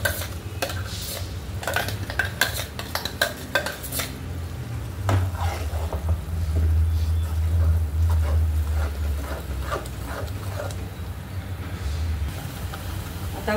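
Onion tomato paste going into a pan of sautéed cumin, garlic and ginger paste for surmai fish curry, with a utensil clinking and scraping and a low continuous sizzle underneath.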